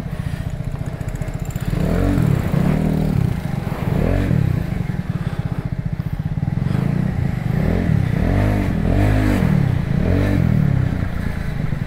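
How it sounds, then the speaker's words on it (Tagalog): A Vespa scooter fitted with a CVT tune accelerates and revs loudly at close range, its engine note rising and falling in repeated surges through a steady running drone. "So testing natin yung Vespa na nagpa CVT tuning mga par dito sa Jeg."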